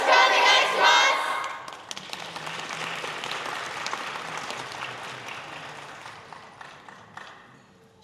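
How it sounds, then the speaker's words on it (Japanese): Audience clapping at an outdoor yosakoi dance festival in Sakai, a loud burst of cheering and applause at first that settles into a steady, softer wash of clapping and crowd noise before tapering off. "お手拍子お心拍子のほどよろしくお願いします"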